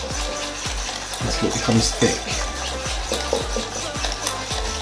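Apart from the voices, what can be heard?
whisking double cream for Dalgona whipped drink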